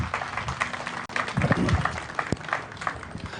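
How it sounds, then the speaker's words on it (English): A crowd at a bass fishing tournament weigh-in applauds the sponsors with steady mixed clapping, a few whoops rising briefly in the middle, and a sharp loud clap standing out near the end. "Give them a big round of applause."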